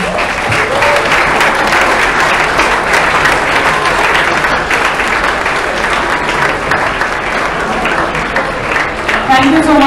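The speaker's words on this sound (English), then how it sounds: "if we could have a round of applause for them, please." Loud, sustained applause fills the hall at a Model UN closing ceremony as delegates are honored, a thick wall of clapping from a large crowd lasting nearly ten seconds.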